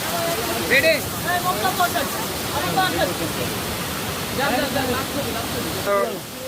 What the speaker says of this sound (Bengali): এইটা হচ্ছে ঝর্ণা।